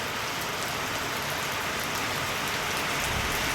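The first rain of the monsoon pours down in a dense, even hiss of drops on surfaces, steady and unbroken from start to finish with no voices.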